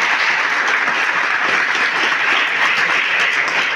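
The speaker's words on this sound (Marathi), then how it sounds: "यासाठी एकदा जोरदार टाळ्या वाजवा" A crowd at a school farewell ceremony claps loudly and steadily, a dense, continuous wash of applause with no talking over it.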